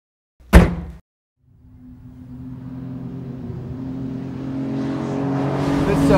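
After a sharp thud, the V12 engine of a 1960 Ferrari 250 GT SWB Berlinetta Competizione race car starts and climbs in pitch, revving louder and higher as it accelerates.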